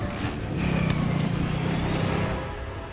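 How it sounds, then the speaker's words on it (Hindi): A car drives off in a crime drama scene, its engine swelling loud and close for a couple of seconds with some clatter, then easing away. "गाड़ी दूसरे रास्ते से निकालते हैं।"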